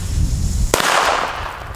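An F2 firecracker explodes with titanium sparks, firing one sharp loud bang after a low rumble, followed by a bright crackling hiss of sparks that fades slowly outdoors.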